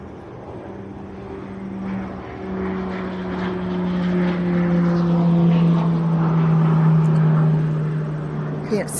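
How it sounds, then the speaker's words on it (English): A propeller airplane passes overhead above a garden, its droning engine hum swelling louder toward a peak near the end before easing, heard at a distance while a person talks nearby. "Another plane's on its way over, I hear it."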